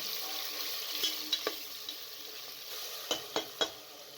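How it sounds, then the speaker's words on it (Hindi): Steady sizzling of meat frying with garlic and ginger in a pan, with occasional scraping taps of stirring, close and moderately quiet. "लहसुन और अदरक डालकर आपने मज़ीद तकरीबन 5 मिनट तक अच्छी तरीके से इसे फ्राई कर लेना है"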